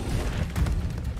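A spell is cast in the Hogwarts Legacy video game with a deep, rumbling magical whoosh and a muffled burst in the middle, loud and close, with no talking.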